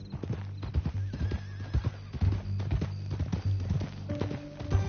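Hooves clip-clop in an uneven walking rhythm close by in the video game Red Dead Redemption 2, with a horse snorting and giving a brief whinny partway through.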